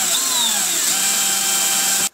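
Power drill boring a screw hole, a loud, close, continuous high whine with shifting pitch for about two seconds before cutting off sharply.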